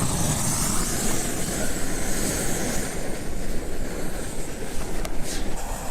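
Steady, heavy wind roars outdoors in the desert, a broad continuous rush with gusty swells that never lets up for the whole stretch.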